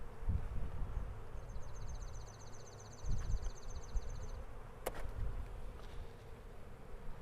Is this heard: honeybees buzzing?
yes